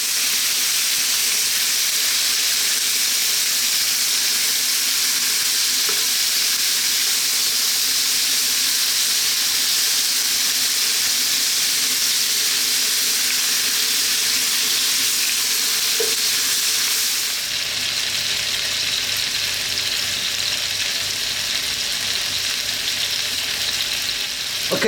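Garlic rosemary lamb steaks frying in a pan over fairly lively heat, a loud continuous sizzle and hiss that holds steady for the whole stretch, with no talking.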